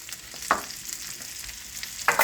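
Onions and meatballs fry quietly in a pan with a soft, steady sizzle, broken by two brief scraping stirs. No voices are heard.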